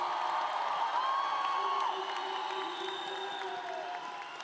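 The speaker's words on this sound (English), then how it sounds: "Let's give them a big round of applause and make some noise." A high school graduation crowd applauds and cheers for the class of 2025, with sustained clapping, whoops and shouts rising together and slowly easing off.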